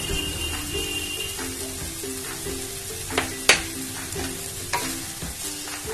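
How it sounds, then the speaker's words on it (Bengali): Onion, ginger, garlic and green chili paste sizzles steadily in a little oil during chicken kosha cooking, with occasional spoon scrapes and clinks against the pan, close and alone. "এখন এর মধ্যে অ্যাড করে দেব একটা ছোট পেঁয়াজ, আদা, রসুন আর কাঁচা লঙ্কা।"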